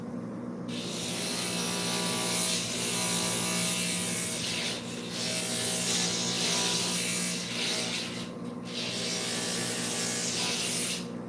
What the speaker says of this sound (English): We're going to grind this last piece a little bit, and we're ready to epoxy.